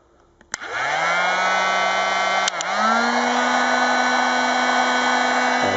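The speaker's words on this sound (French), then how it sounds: "un décapeur, et on va chauffer la partie ici pendant quelques" A heat gun switches on with a click and roars into a steady, loud blowing whine while heating part of an Acer graphics card during a repair, with a brief dip and click midway before the airflow settles again.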